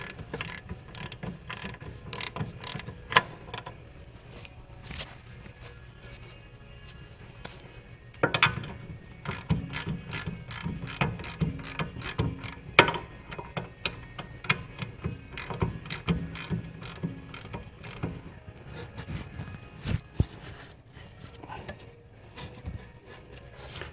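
A ratchet clicks in long, rapid runs of ticks as a bolt is backed out of the suspension of a 1972 VW Bus during ball joint work, with heavier clunks of metal along the way.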